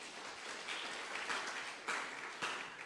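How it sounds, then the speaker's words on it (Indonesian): A church congregation claps together during a worship service, a fairly faint, continuous patter of many hands with a few sharper accents near the end, no voices above it. "Tepuk tangan buat Tuhan, saudara."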